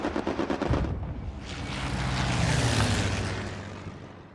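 A strafing run by aircraft in a World War II shooter on Carentan, heard as a rapid rattle of gunfire that gives way to a swelling, roaring engine pass fading out, fairly faint and without talk.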